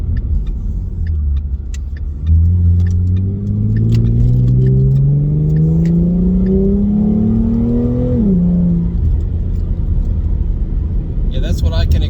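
A 2016 Ford Mustang V6 with a Beluga axle-back exhaust, heard from inside the cabin, gives a deep, steady engine drone that climbs in pitch and then drops as it downshifts to third gear, with a voice speaking briefly.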